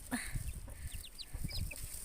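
A hen clucks softly in short, scattered bursts amid faint chirps of her chicks, with low background rustling nearby.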